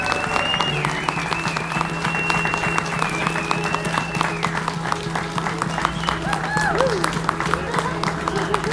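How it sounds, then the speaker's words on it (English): Wedding guests give dense, continuous applause and cheers to the newlyweds right after the ceremony, loud and close. Voices shout and talk through the clapping, and a steady tone holds beneath the crowd. "Give him a round of applause."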